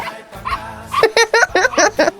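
Several dogs bark in quick succession, loud and close, with a whimper early on and a few brief spoken words mixed in.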